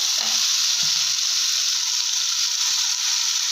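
Spices such as bay leaf and cumin sizzle in hot oil in a pan for egg curry, a steady bright frying hiss with a couple of brief low clinks near the start.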